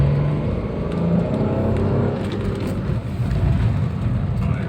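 A Toyota Xenia 1.0 car accelerating from second gear straight into fourth, its engine giving a steady, fairly loud drone with rumbling road noise and no talking.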